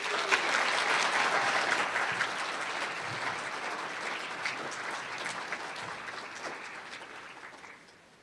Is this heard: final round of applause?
yes